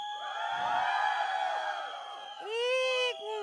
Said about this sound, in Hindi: एक सेकंड फरीदा, आप आने के पहले लड़कों एक बार चिल्ला के बता दो आप लोग भी एक बार